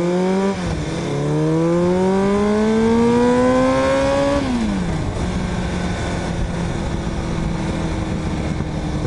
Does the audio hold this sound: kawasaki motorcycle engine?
yes